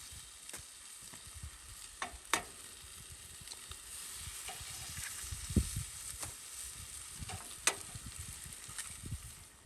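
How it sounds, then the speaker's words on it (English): Leftovers and eggs fry in a pan at a campsite, a steady sizzle with scattered pops and sharp clicks of a utensil against the pan, moderately close and without talk. "we'll add in last night's leftovers and some eggs"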